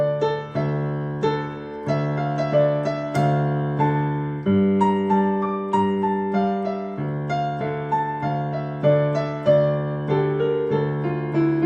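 An electronic organ plays a Korean song with both hands: a sustained melody over a steady rhythmic bass and chord accompaniment, close and clear, with no voices.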